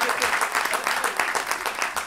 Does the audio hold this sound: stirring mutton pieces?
no